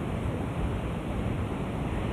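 Hurricane Sandy's storm wind and pounding surf at Nags Head, North Carolina, with gusts near 50 mph, a steady, loud, broadband roar of wind buffeting the microphone over crashing waves, with no voices.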